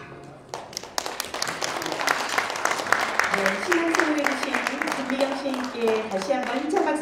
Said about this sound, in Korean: 다시 한번 힘찬 박수 보내주시기 바랍니다